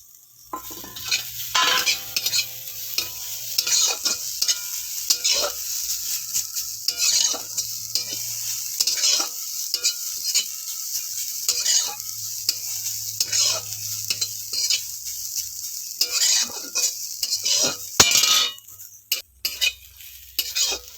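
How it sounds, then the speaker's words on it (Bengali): Grated coconut filling for a stuffed pointed gourd dish fries in a pan while a spatula stirs it, producing repeated scraping strokes over a continuous sizzle, close and fairly loud, with no voices. "একটু লালচে করে ভাজা হয়ে গেলে এরপর নারকেল কোড়াগুলো দিয়ে দেব।"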